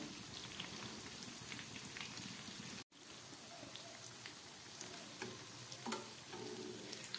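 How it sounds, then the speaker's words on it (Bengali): Cauliflower cutlets frying in a pan, a constant dense crackling sizzle like rain, with a brief cut partway through and faint scrapes of turning near the end. "ঘুরিয়ে ফিরিয়ে ভেজে নিতে হবে।"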